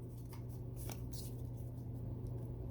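Pokemon Sword & Shield card packs handled at close range, a few soft crinkles and quick card rustles over a low steady background hum.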